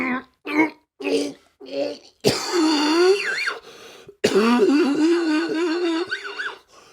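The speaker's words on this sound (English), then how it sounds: "you ever cough and get lightheaded?" A harsh throat-clearing cough breaks out, followed by strained, wheezy vocal sounds and sputtering, close and fairly loud.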